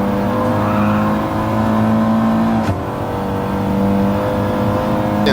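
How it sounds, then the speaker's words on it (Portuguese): Several race car engines in a Gran Turismo-style race at Lago Maggiore, a loud, steady roar of close engines through a corner with sustained droning tones that shift slightly in pitch. "3 carros disputando a curva"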